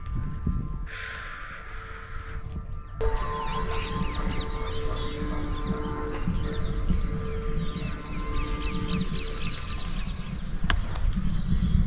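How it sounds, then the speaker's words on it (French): Birds chirp and sing on a cool morning at a temple in Hampi, India, their quick calls scattered over a steady low hum and soft temple music, moderately close and continuous throughout. "Le chant des oiseaux."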